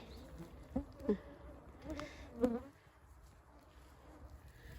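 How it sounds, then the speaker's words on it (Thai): Several short, high-pitched insect buzzes come and go at close range over a quiet outdoor background, like mosquitoes whining past. "เสียงยุงพี่น้องได้ยินไหม"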